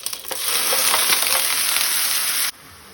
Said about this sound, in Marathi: हो मसालो तेलान मातसो तळसून घेवया।